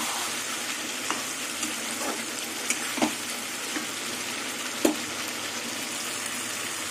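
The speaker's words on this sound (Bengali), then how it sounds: "আলু, কচু, মশলা দিয়ে কষাতে কষাতে একদম তেল ছেড়ে দিয়েছে দেখুন" Potatoes, taro and spices sauté in oil, a steady frying hiss broken by a few light scrapes and clicks of stirring, with no talking.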